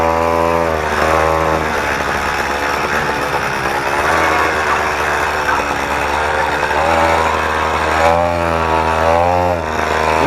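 A motorized BMX bicycle with a small gas engine and a newly fitted exhaust rips past, its buzzing engine steady and loud throughout, with pitch sweeps as it approaches and passes.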